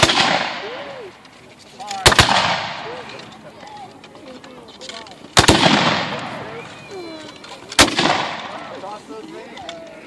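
Civil War reenactment volleys at Pea Ridge: three sharp, loud gunshot reports spaced a few seconds apart, each with a rolling tail, while people talk and call out in the background.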